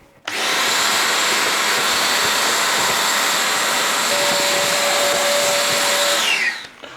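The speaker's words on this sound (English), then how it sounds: "We also have special attachments for vacuum cleaners, which are micro vacuum tube, and this allows me to get right up the tube to get rid of any fluff." A vacuum cleaner fitted with a micro vacuum tube attachment cleans fluff from a Beko tumble dryer, starting abruptly and running as a loud, steady whine with a high tonal hum before winding down at the end.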